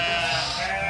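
A farm sheep bleats in one sustained, loud, wavering call that fills the whole second, with no talk over it.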